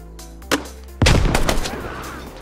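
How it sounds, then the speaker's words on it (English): Heavy gunfire in a military shooter game, a single shot near the start followed by a loud close burst of rapid shots with echoing rumble and tail. "Enemy fire coming from the east of Yev."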